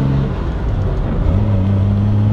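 Aston Martin DB4 engine revving as the car pulls away, a loud, steady close rumble whose pitch drops and climbs again with a gear change, with no talking.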